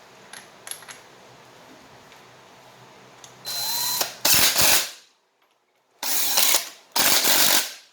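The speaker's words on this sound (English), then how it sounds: "we're going to take the Allen bolts. We're going to put them back in place." A power driver runs Allen bolts back into a Graco 390st paint sprayer in loud, close bursts, a ratcheting whir repeating four times with short pauses, after some faint light clicks and handling.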